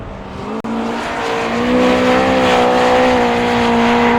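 An autograss race car pulls away hard, its engine note rising steadily in pitch and loudness, close by with a brief click near the start.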